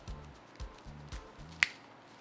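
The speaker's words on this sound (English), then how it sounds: "So when I snap my fingers through the magic of editing, it will magically be done." A single sharp finger snap cracks out once, close and crisp, over faint background hum and a few soft low thumps.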